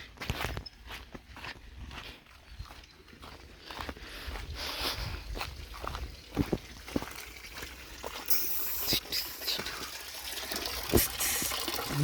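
Steady rushing and splashing of water pouring into a mini swimming pool, with scattered thuds and footsteps on a hard surface nearby, no talking.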